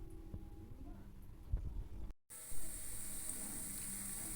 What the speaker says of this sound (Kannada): ಉಂಡೆಗಳನ್ನೆಲ್ಲ ಇನ್ನೊಂದು ಸಾರಿ ನಾವು ಉಂಡೆ ಮಾಡಿಕೊಂಡು ನಂತರ ಎಣ್ಣೆ ಒಳಗೆ ಬಿಡೋಣ